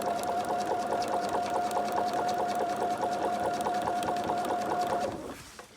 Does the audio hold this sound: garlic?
no